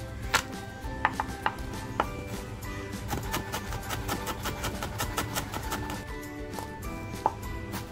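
Knife steadily chopping garlic cloves fine on a board before cooking in a clay pot, a rapid run of close, crisp taps with a few sharper strikes standing out.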